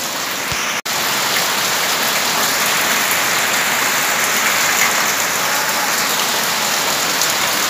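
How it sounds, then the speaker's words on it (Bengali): Rain falls steadily and heavily, a loud, unbroken hiss of drops striking surfaces nearby, broken only by a brief click near the start. "বৃষ্টি বৃষ্টি বৃষ্টি বৃষ্টি বৃষ্টি বৃষ্টি"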